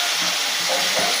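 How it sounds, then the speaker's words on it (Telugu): A continuous, fairly loud sizzle of prawns frying in hot oil with turmeric, steady and broadband, with faint soft bumps from the pan underneath. "ఫస్ట్ నూనెలో ఫ్రై చేసుకోవాలా"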